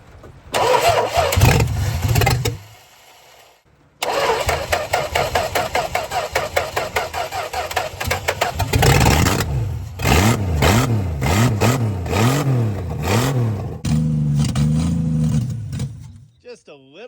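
A 1963 Plymouth Valiant slant six cranks, catches and starts, then revs in repeated loud swells before settling toward a rough idle, with short pauses between attempts.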